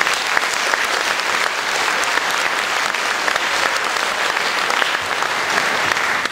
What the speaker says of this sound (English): Give these 2 a round of applause.